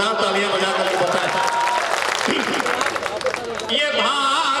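A crowd at an international mushaira and kavi sammelan claps loudly, a dense, sustained wash of applause mixed with cheering voices and background chatter.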